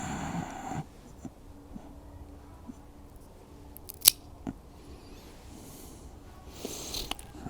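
A cigar end is snipped with a cutter in a quiet room, a few faint clicks followed by one sharp, distinct cut.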